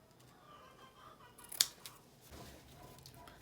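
Scissors cut through a length of elastic during sewing, giving a single quick crisp snip, close and fairly quiet against a silent room.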